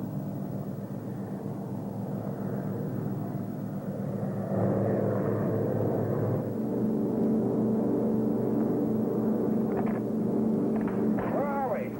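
A propeller aircraft engine drones steadily aboard a target plane in flight, a continuous loud hum that fills the whole stretch, with a few brief tonal sweeps near the end.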